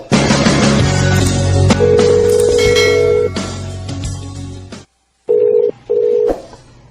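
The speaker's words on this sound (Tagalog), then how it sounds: "Sige lang ring ang cellphone, pero dilikid mo tubag." A cellphone rings with loud, close electronic telephone tones that play continuously before cutting off briefly and sounding in two short bursts, with no voices.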